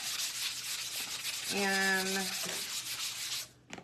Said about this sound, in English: so I'm just going to take my sanding block